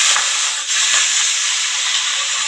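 Chopped spinach dropped into hot tempering oil gives a loud, continuous, close-up hiss of sizzling that barely dips over the short stretch, with no voices.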